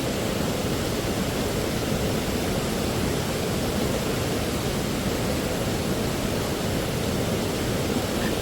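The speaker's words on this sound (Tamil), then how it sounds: "இந்த ஃபால்ஸ் சவுண்டு தண்ணி போகிற சவுண்டு" Steady, dense roar of a waterfall at Valparai, continuous and loud with no pauses or voices, heard from close by.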